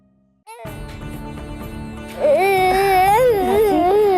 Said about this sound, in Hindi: रोने की आवाज हमसे बर्दाश्त नहीं हो रहा है।